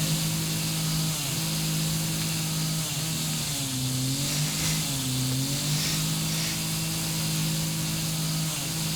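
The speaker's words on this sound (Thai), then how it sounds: "ขอเลื่อยคอหน่อย" A power saw cuts through a dinosaur's neck in the video game Teardown, a steady loud droning buzz with a wavering tone held for the whole stretch.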